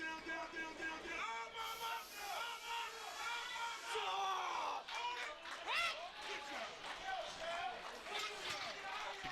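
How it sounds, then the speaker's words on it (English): At a high school powerlifting nationals meet, Glen Mills supporters cheer on a lifter with loud crowd shouts and whoops in a large hall. Commentators talk over the whole cheer. "You could hear the Glen Mills natives cheering him on."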